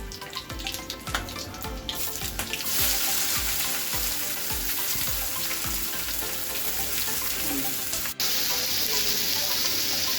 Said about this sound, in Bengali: পেঁয়াজটা ভাজা হচ্ছে,